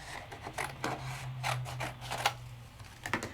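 Quick snips of scissors cutting out die-cut craft paper shapes, several short crisp bursts in an uneven rhythm, close and fairly quiet, with a low steady hum underneath.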